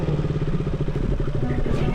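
Motorcycle engine on an off-road hill track near Jarsing Pauwa, a steady close mid-pitched putter with rhythmic clatter throughout, no speech.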